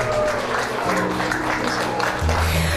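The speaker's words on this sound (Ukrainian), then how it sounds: "ми також підтримуємо оплесками" Guests applaud at a small wedding celebration held under wartime conditions in Ukraine, a continuous clapping layered over music with sustained low tones, fairly loud and steady.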